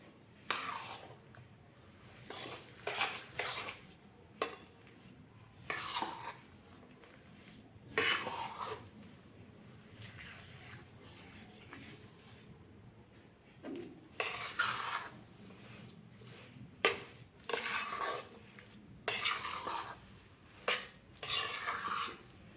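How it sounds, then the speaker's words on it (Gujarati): A spoon mixes ingredients for adadiya pak in a bowl, giving faint, intermittent scraping and clinking strokes in irregular bursts over a quiet background. "બધી વસ્તુને મિક્સ કરી લઈશું"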